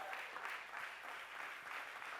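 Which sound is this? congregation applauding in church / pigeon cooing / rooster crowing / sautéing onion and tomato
congregation applauding in church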